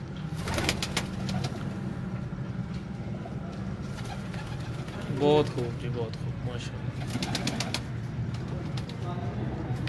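Breeding pigeons in a loft coo softly in a low, rhythmic murmur, with bright chirps and flutters here and there, while someone talks over them throughout.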